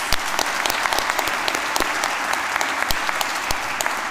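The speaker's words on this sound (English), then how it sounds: "Let's give our graduates a round of applause." An audience at a City College Dublin graduation ceremony gives the graduates loud, sustained applause, a dense, even patter of many hands clapping close by.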